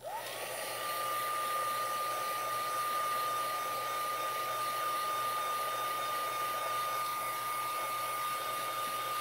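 A hair dryer blows steadily and loudly throughout, drying ink on a foil art piece, a constant whirring hiss with a high motor whine and no pauses.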